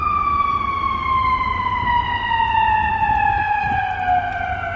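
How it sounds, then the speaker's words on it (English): An ambulance siren passing on a street, a loud steady wail slowly sliding downward in pitch as it goes by, close and dominant over low traffic rumble, with no talk. "I'm gonna let this ambulance go by"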